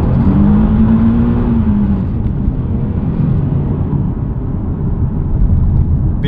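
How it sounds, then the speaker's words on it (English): A Nissan 370Z Nismo V6 with traction control off drives past in a loud, steady engine roar, the pitch sliding slightly as it holds power throughout. "With the traction control off, this is one of the loosest rear end V6s I've ever driven."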